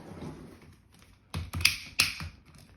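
A few sharp plastic clicks from the torso joint of a Marvel Legends HasLab Giant-Man action figure, in quick bursts, close and fairly quiet, with short pauses between them and no talking.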